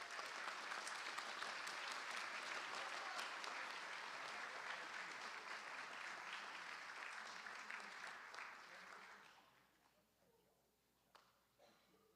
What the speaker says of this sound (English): So let's give him one more round of applause.